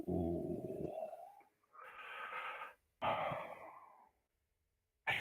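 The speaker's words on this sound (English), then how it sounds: "I'm gonna yawn" A person yawns with a long, drawn-out breathy exhale, then a second strained yawning breath and a brief third burst, all close and fairly quiet with pauses between.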